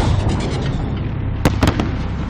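Grenade explosion in Call of Duty: Modern Warfare (2019) on PS4, heard as a pair of sharp, loud bursts over a dense, steady bed of game noise and ambience.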